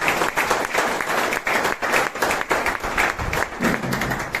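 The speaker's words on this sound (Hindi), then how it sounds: "तालियां" An audience claps at an Independence Day celebration in a rehabilitation centre, in uneven bursts of near, hollow-sounding claps with brief pauses between them.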